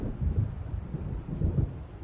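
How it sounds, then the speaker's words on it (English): Deep rolling thunder from an approaching storm in the video game Alan Wake rumbles in two heavy low swells, with wind and rain-like noise filling the background. "It seems there's a storm coming."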